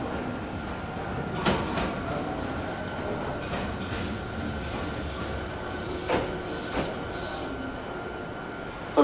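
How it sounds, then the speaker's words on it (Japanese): A Hankyu local commuter train bound for Osaka-umeda rolls into Awaji station during the morning rush, low rumble, wheels squealing and clattering over the rails, brakes hissing as it slows nearby. "5号線到着の電車は各駅停車大阪梅田行きです。"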